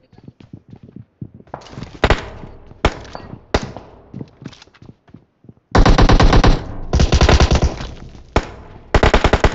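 An M249 machine gun with a 6x scope fires in PUBG on the Miramar map: loud, close scattered single shots and short bursts, then long sustained sprays of rapid fire in the second half.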